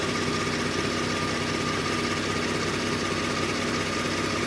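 A 2019 Kia Stinger idles steadily, a constant low engine hum with a faint whine while the transmission is shifted through its gears during a fluid check, even and unbroken with no voices.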